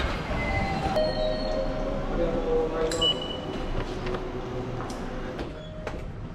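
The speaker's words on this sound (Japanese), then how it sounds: "電車来る" A train pulls into a station, rumbling and rattling steadily with metallic squeals and clinks, a few muffled voices in the background.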